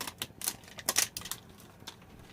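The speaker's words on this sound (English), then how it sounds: "Let's see if I can get it open without cutting myself up." Plastic packaging on a skincare product being pried and torn open, giving sharp crinkly snaps and crackles in quick bursts, close by, with no talking.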